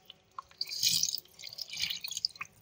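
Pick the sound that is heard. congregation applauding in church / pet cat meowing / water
water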